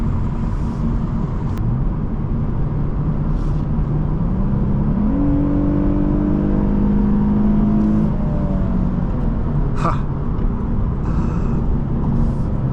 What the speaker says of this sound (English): Definitely a great engine.